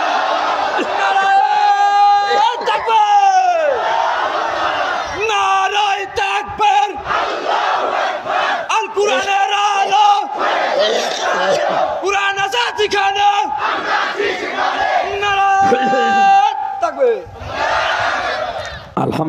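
A large crowd at a religious gathering chants takbir, Allahu Akbar, in loud repeated rhythmic shouts that answer a leader's call, with many voices swelling together in a sustained, reverberant roar.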